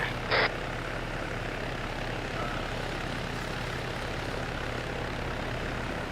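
A helicopter in a military-style video game night operation whirs as a constant engine and rotor drone, steady and moderately loud throughout, with a brief sharp click near the start and no speech.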